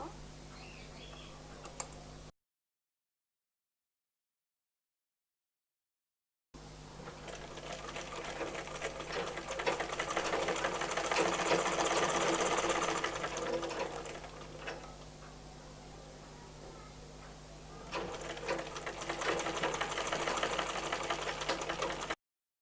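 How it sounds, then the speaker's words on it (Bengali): Sewing machine stitching along the side of a baby frock's fabric, a steady rapid mechanical whir running close and loud, with one brief pause and a shorter run before it, and no talk. "এভাবে আরেকটা পাশে সেলাই করব"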